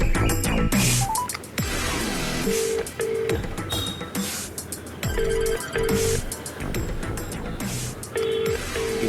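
A telephone rings repeatedly with an electronic ringtone, bursts of repeating tonal beeps in a regular pattern, loud and close over faint background sounds.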